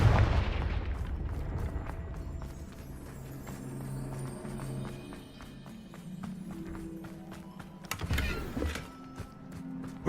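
A blasting spell goes off in Hogwarts Legacy with a strong low burst at the start, then a stretch of rattling, clattering game effects and a second sharp impact with a rumble near the end. No one speaks.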